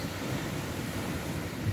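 Sea surf washing onto an Odessa beach on a warm, sunny September day, a steady broadband wash with wind noise across the microphone and no voices.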